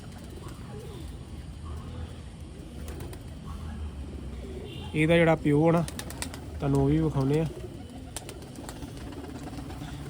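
Pigeons of a Malwai breed coo in two loud, close bursts of throaty rolling calls in the middle, while someone talks over softer ambient noise around them.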